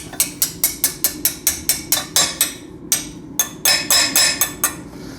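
Repeated sharp hammer blows drive a tight part down into a 10mm hole on a waste oil burner build, about fifteen close metallic strikes in a steady rhythm with one short pause partway through.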